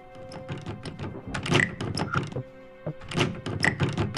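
A series of dull thunks and knocking bangs, like a door being forced or struck, coming in two loud clusters, from the lounge door in the game Frequency Missing.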